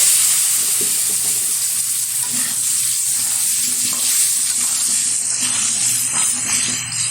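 Halved potato pieces sizzle in hot oil with turmeric in a home kitchen, a continuous bright crackle with faint clinks and stirring noises along with it, steady and close.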